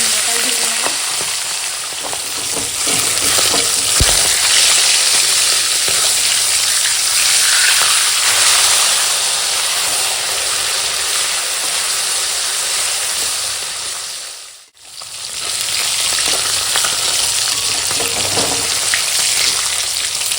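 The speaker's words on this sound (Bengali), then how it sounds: "দেখো এখন এই মাছগুলো ভাজা হয়ে গেছে" Loud, continuous crackling sizzle of rohu fish frying in hot oil, close up, with a brief dip near the end before the sizzle resumes.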